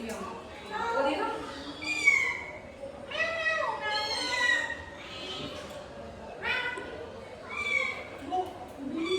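A cat meows repeatedly near a house, several drawn-out calls in a row, with voices talking over and between them.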